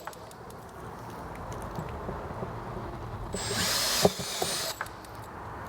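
A power drill with a step drill bit whirs briefly through material in a short burst while installing a Vespa topcase, with clicks and tool handling before and after.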